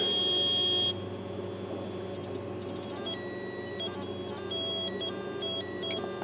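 A square-wave tone drives a small motor: a steady, piercing electronic beep for the first second, then a quieter, sustained buzzing hum with layered tonal whine that continues throughout.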